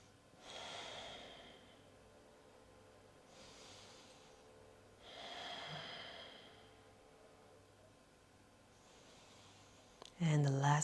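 Slow, deliberate breaths during a beginner yoga flow, with three long exhales spaced a few seconds apart and a fourth softer one. They sound soft and close, followed by a brief sharp bump at the end.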